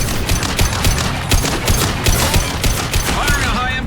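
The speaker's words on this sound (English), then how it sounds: "Firing a high-impact shot!" Heavy gunfire during a firefight in the Mass Effect 2 video game, a dense, loud barrage of rapid shots and impacts that continues throughout.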